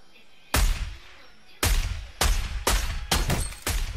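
Video game gunfire, rifle shots fired from a position overlooking enemies: six loud, sharp reports with ringing tails, one alone and then five in a quicker uneven run, with no talk.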